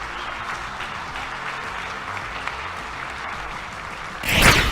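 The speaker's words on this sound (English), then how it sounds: "Give him a hand clap." Applause bursts up near the end, loud and brief, after a steady murmur of background noise, as an audience claps for an award winner at a news and journalism awards event.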